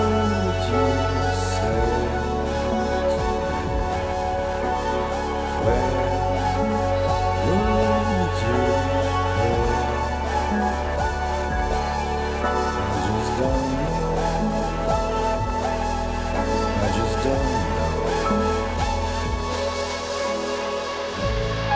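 A studio remix blending extra synth melodies with the original song's piano and vocals, a dense continuous musical mix playing steadily throughout.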